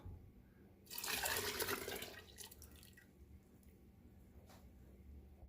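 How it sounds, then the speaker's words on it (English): Coconut milk pours into a pot for a Jamaican Sunday dinner in a short, close, splashy gush lasting about a second. Faint drips and small clinks follow in quiet, with no talking. "So I'm gonna add in my coconut milk now."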